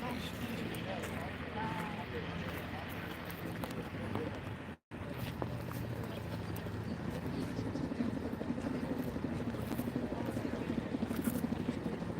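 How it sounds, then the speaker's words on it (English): A firefighting helicopter over the Line Fire wildfire, September 2024: a steady rotor drone fills the scene, loud and continuous with wind-like rushing, briefly cutting out once midway. "I hear that chopper coming."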